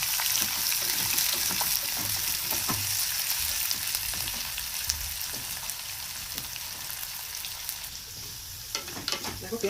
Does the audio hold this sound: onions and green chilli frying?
yes